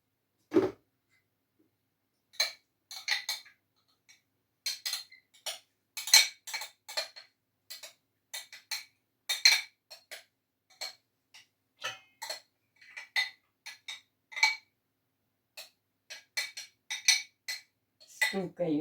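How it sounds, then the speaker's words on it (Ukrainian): Grated zucchini tipped into a small bowl, heard as a long run of light clinks, taps and soft scrapes against the dish, irregular and close, with no talk over it. "тепер я ось наготовила мисочку, і в цю мисочку я буду висипати кабачок"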